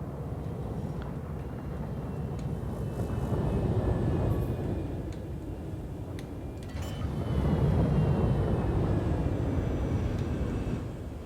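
Aircraft engine in a video game during a landing approach, a steady broad roar that swells around the middle and again toward the end, continuous throughout with no talking.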